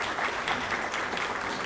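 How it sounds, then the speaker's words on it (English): Audience applause for a musician at a city event welcoming a new city manager, a brief burst of steady clapping from a moderate crowd in a room. "Maybe a round of applause for the musician."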